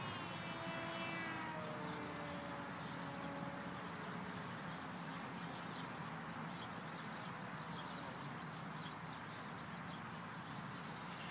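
A model airplane flies over Edgewater Park, its steady engine drone holding constant and fairly loud throughout, with faint bird calls scattered in the background.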